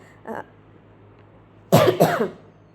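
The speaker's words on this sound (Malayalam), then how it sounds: "സംസാരിച്ചുകൊണ്ടിരുന്നപ്പം ചുമ വന്നതാണേ ക്ഷമിക്കണേ" Two sharp, close coughs in quick succession near the end, preceded by a brief faint throaty sound, otherwise quiet.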